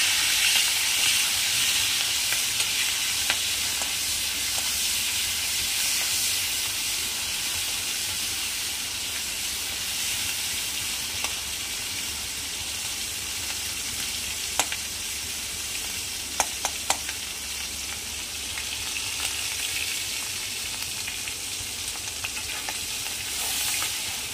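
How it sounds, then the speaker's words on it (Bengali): Vegetables fry in hilsa fish oil in a pan, giving a steady, close sizzling hiss that runs throughout with a few sharp clicks of utensils near the end and no talking. "এটাকে একটু আমি ভেজে নিয়ে"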